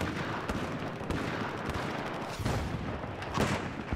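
Mortar rounds landing in a 32 vs 32 online shooter match on the Locker map, heard as a dense rumbling barrage of overlapping distant blasts with a few sharper reports, steady and fairly quiet, with no talk.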